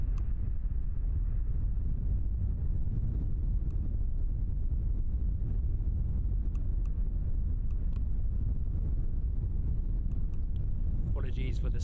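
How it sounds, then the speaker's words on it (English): Wind buffeting a microphone outdoors at Christchurch airport during plane spotting, a constant low rumbling roar that fills the whole stretch, loud and close, with faint distant sounds scattered on top. "The wind is still battering us a little bit today."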